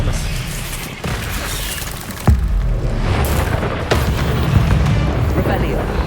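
The Expelliarmus spell is cast in the Hogwarts Legacy video game, with a sharp booming impact over a dense, rumbling backdrop of combat noise and a second thump a little later.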